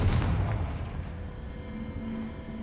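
A Confringo fire spell from Hogwarts Legacy lands in a short low boom at the start, then a rumbling tail that fades out. No one speaks.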